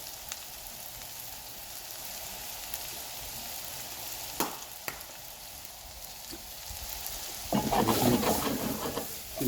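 Leftover ham and vegetables with fresh thyme sweat in a hot pan, a steady soft sizzle and crackle running throughout, with a louder rustling burst of stirring or shaking toward the end.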